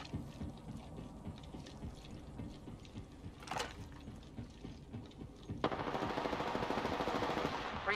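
Rapid automatic gunfire bursts from the video game Apex Legends, crackling quietly in a steady stream, then growing louder and denser with a sharp burst near the end.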